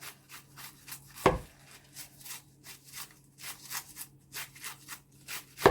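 Garden vegetables being sliced by hand, soft irregular cuts and rubbing with a couple of sharper knocks against a board, close and quiet with a low hum behind.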